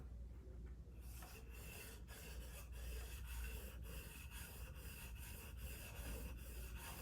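The back of a hand plane blade rubbed back and forth on a sharpening stone, a steady close gritty scraping with repeated strokes, fairly quiet and alone.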